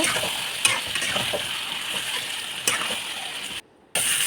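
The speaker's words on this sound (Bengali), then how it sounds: "হলুদ জিরা জিরা বাটা কাঁচা লঙ্কা বাটা দিয়ে ভালো করে নাড়িয়ে নেব" Turmeric, cumin paste and green chilli paste are stirred in a sizzling pan for a hilsa curry with potato and eggplant, a steady fry broken by spoon scrapes, then a brief dropout of near silence.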